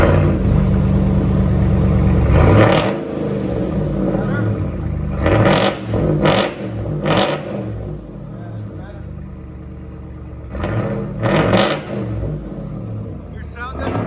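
A Ram 2500 Power Wagon with a 6.4L Hemi V8 and straight-pipe exhaust revs hard, giving several sharp, loud throttle blips over a rumbling idle, while people talk nearby.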